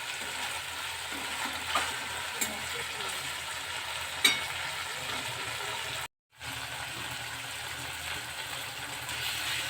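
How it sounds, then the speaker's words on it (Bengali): Spices for a dry cabbage dish fry and are stirred in a pan, making a continuous sizzle with occasional light clinks and scrapes and one brief dropout near the end. "মশলাটা ভালো করে কষিয়ে নিতে হবে"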